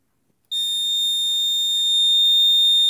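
A vintage burglar window alarm starts abruptly and holds a piercing, steady high-pitched electronic tone, loud, close and continuous with no talk over it.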